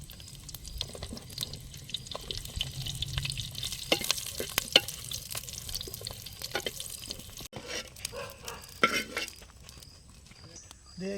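Whole brinjals fry in hot oil for an oil brinjal curry in a village kitchen, a crackling sizzle with stirring scrapes and clinks, sharp pops mid-clip and a louder clatter toward the end, with some voices nearby.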